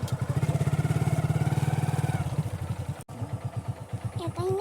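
A motorcycle engine putters at close range in a fast, steady pulse while riding on a road, then slows into uneven thumps with brief voices near the end.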